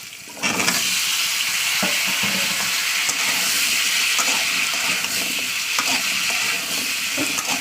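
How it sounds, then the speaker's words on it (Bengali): Cut potatoes and onions sizzle loudly in hot oil in a pan for a fish curry, under a steady close frying hiss and repeated scraping stirs of a spatula. "আলুটাকে আমি দু মিনিট ধরে ভাজা করবো তেলের উপরে"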